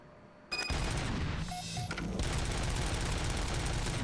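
A rapid-fire handgun in Robocop: Rogue City empties like an automatic shotgun, a sudden dense burst of loud, close shots rattling continuously for several seconds with only a brief dip in the middle.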